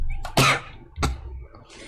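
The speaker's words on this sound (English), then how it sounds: "I don't know why I'm like keep coughing in today's stream" Two sharp, explosive coughs burst out close to the microphone a moment apart, each brief and forceful over a quiet room background, from a streamer painting an Ork Trukk model.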